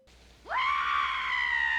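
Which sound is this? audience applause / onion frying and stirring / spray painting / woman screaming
woman screaming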